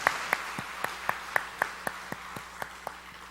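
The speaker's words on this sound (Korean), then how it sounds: "주님께 영광의 박수 올려드립니다." A church congregation at a Sunday evening service at Yongin Jeil Church claps together in a steady, even rhythm: about a dozen sharp, unison claps, moderately faint and slightly distant, with no talking over them.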